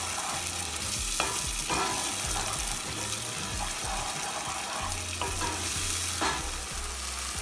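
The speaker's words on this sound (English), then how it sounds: "now I let it saute for about 2 minutes where all the spices and everything blended in this" Spices and sauce for Mexican-style mahi mahi sautéing in a pan, a steady loud sizzle with occasional stirring scrapes running throughout.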